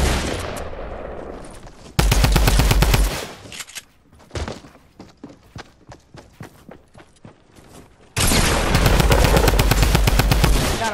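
Close, loud bursts of automatic gunfire in Fortnite, one blast at the start and another long stretch at the end, with rapid individual shots and clicks filling the quieter middle.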